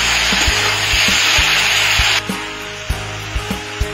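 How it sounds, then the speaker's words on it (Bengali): Potato and cauliflower frying in a pan, a loud close sizzle that drops away abruptly partway through, followed by sharp taps and scrapes of stirring against the pan. "এবার আলু ফুলকপিটা ভেজে নিলাম।"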